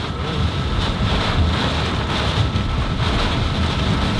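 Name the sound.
violent side wind gusts after a tornado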